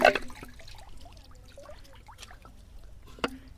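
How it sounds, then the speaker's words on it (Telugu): Water is poured to rinse cut pieces clean while bamboo chicken is prepared outdoors, giving a faint, brief splash and trickle with a few small knocks, close by and quiet. "నీళ్ళు పోసుకుని శుభ్రంగా గులకరించుకుంటే కాడికి మనకి శుభ్రంగానే ఉన్నాయి."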